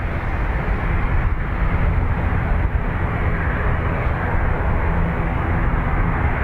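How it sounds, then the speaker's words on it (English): ATR turboprop airliner at Dublin Airport, a loud, steady engine roar held close and constant throughout, with no voices. "ATR heading to Donegal"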